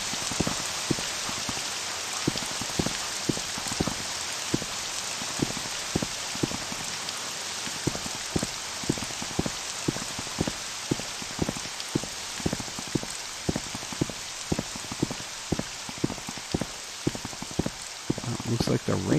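Steady rain hisses and patters across the ground in the fantasy RPG OpenMW, dense drumming with frequent sharper drop impacts, continuous and fairly close throughout.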